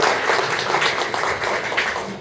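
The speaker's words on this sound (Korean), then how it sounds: "다시 한번 큰 박수 부탁드리겠습니다." An audience at a community talk session keeps up steady, moderately loud applause with no break for a couple of seconds.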